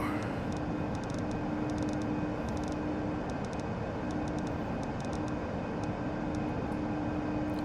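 Steady roar and whine of an ERJ 175 airliner's jet engines climbing in Microsoft Flight Simulator 2020, a constant dense drone with a faint tone held throughout and some light clicks.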